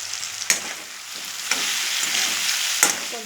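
Ingredients for sambar sauté in a hot pan, giving a loud, steady sizzle close by, with a few sharp scraping stirs breaking through at intervals.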